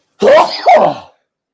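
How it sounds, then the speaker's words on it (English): A single close, loud sneeze bursts out in two quick parts, a sharp intake and an explosive release, then silence. "I'm going to sneeze."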